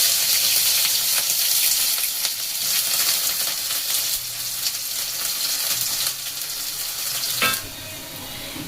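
A small chopped onion and washed lentils fry in hot oil in a pan, giving a loud, steady sizzle with brief stirring scrapes and a sudden drop in intensity near the end.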